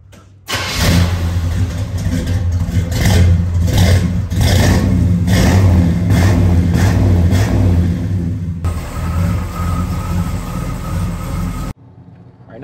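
A 1968 Chevelle SS convertible's engine starts, then rumbles loudly up close with repeated revs before pulling away, the deep engine sound filling the clip until it cuts off abruptly.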